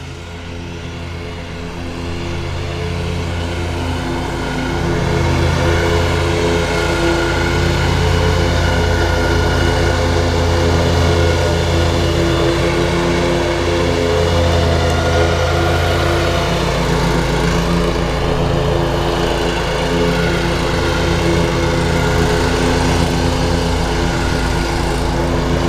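A lawn mower engine runs steadily at close range with a constant droning hum, growing louder after a few seconds and holding loud and continuous to the end, with no talk over it.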